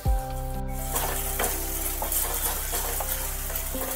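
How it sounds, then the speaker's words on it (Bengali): Curry leaves fry in hot oil with salt and jaggery powder nearby, starting as a loud burst of crackling sizzle, then settling into a steady, close frying hiss with occasional pops and stirring, no talking. "কারি পাতাও তেলের সাথে একটু ভেজে নিতে হবে"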